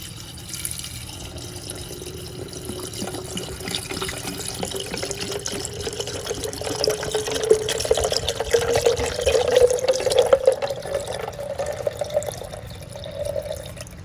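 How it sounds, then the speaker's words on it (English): Regular water poured into a container while making strawberry lemonade, a continuous splashing fill that rises slightly in pitch and grows a little louder toward the end. "So I'm gonna go ahead and add some water."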